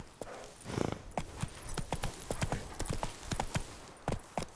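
Horse hooves gallop in The Witcher 3, a quick run of sharp, close clip-clop strikes repeating steadily and loudly over a low background rumble.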